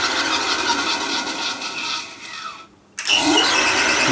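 Metal lathe spinning at about 430 RPM, a steady motor whine that winds down to near silence as it stops, then abruptly starts again running in the opposite direction.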